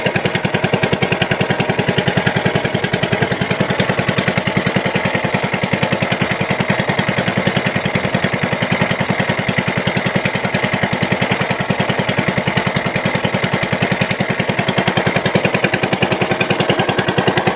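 A loud, steady boat engine drone with a rapid chugging pulse, running continuously without letting up, close by.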